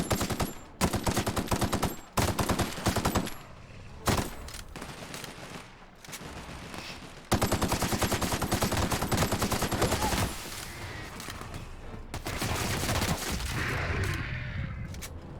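Rapid automatic gunfire from The Outer Worlds, loud sustained bursts separated by brief pauses, close and dominating, with no talk over it.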